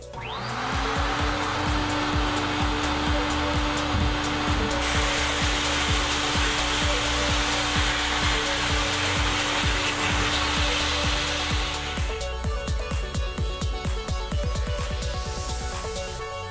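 A sandblaster strips old powder coat off a car wheel, a loud, unbroken roaring hiss with a steady whine beneath it that runs on for many seconds, shifting in tone near the end.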